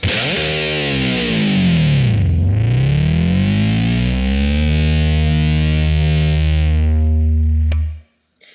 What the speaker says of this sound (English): we have this dive bomb that goes like this